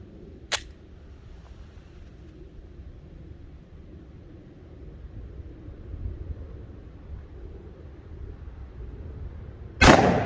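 A 10mm Springfield 3.8-inch pistol fires a SIG V-Crown 180-grain hollow point into ballistic gel, with one sharp, loud gunshot near the start and another at the very end, separated by quiet outdoor background.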